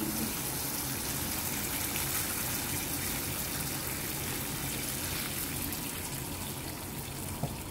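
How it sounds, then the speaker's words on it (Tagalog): Steady rushing water pours continuously into a cooking pot for soup, a full gushing flow with no pauses, filling the space at close range. "Ayan, time to add the tubig."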